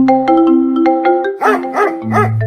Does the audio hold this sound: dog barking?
yes